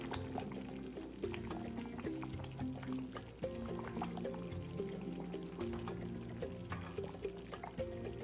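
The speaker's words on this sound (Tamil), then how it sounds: "பாருங்க நல்லா கொதிச்சிட்டு இருக்கு" Fish curry (meen kulambu) boils in a pot, a close, continuous bubbling and gurgling with frequent small pops at a low, steady level.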